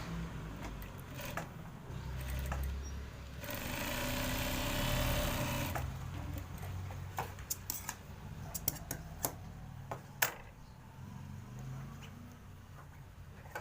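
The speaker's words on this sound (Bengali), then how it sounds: "পকেটের মুখটা প্রথমে সেলাই দিয়ে দিতে হবে" A sewing machine runs in a steady whirring burst while stitching the mouth of a shirt pocket, close and moderately loud, then stops and gives way to scattered light clicks and fabric handling.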